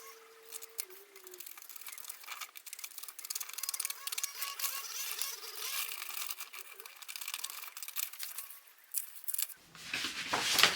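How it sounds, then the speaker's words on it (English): Scissors snip and crunch through paper pieces for a Napoleon hat in a steady series of close cuts, with rustling between strokes and louder handling near the end. "I'm going to just basically cut that with a pair of scissors"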